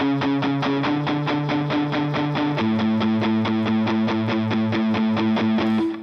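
A palm-muted electric guitar with heavy, fuzz-like distortion chugs a tight, punchy repeated rhythm, shifting to a lower note partway through; loud, close and alone with no talking.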